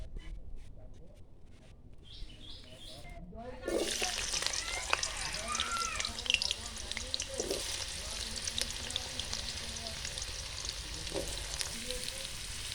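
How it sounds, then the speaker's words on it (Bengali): Carrots and potatoes hit hot oil in a wok with a sudden loud sizzle, then fry steadily with crackling and occasional stirring scrapes; a few quiet clinks come before they go in. "আমি এই গাজর আর আলু একসঙ্গে ভেজে নিচ্ছি।"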